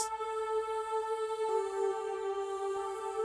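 A sustained synth lead tone with an airy female vocal pad layered underneath, holding a steady chord with faint soft pulses, quiet and alone.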